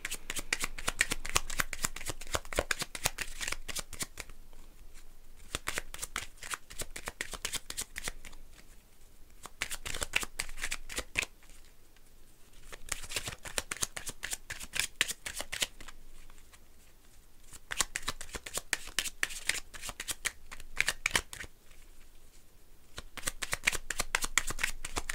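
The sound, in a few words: shuffling tarot cards for a horoscope reading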